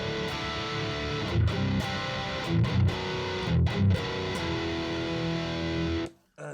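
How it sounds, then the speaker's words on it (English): Heavy distorted electric guitar playing a chugging metal riff through a Kemper amp running a PV5150 profile, sustained and dense with rhythmic accents, loud and steady before cutting off abruptly near the end. "if you wanted to play some metal riffs, the original signal sounds like this"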